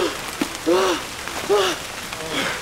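Heavy rain keeps up a steady, moderate hiss throughout, with a few short tonal vocal sounds rising above it.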